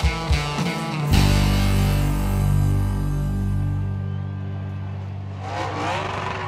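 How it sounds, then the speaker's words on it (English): NASCAR Cup Series cars practicing at Michigan International Speedway, a steady engine drone with a loud pass early on that fades slowly as the cars move away, continuing without speech. "You can probably hear that buzzing in the background. That's a Cup Series practice."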